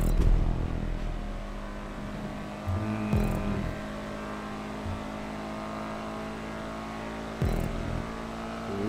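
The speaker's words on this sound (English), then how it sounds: "Love that engine note." Sports car engine in GTA Online, a continuous low engine drone that rises slightly and revs briefly a couple of times, fairly quiet and steady, with no one speaking.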